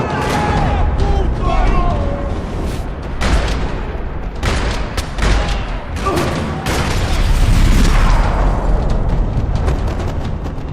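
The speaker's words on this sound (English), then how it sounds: "Another parking lot rattling with gunfire." Bursts of gunfire and booming impacts rattle through a parking lot firefight in the video game Max Payne 3, loud and irregular, mixed with game music and effects across the scene.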